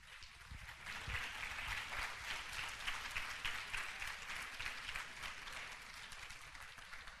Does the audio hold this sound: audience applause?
yes